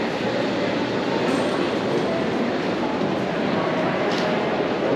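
New York subway green line train riding between stations, a loud, steady roar of wheels and carriage with rumbling, heard from inside the car.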